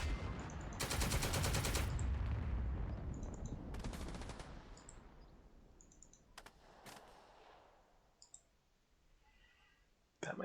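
Bursts of automatic gunfire and sharp clicking reports in the World War II shooter Second Front, a long loud burst early, another shorter one after, then scattered single cracks fading toward quiet.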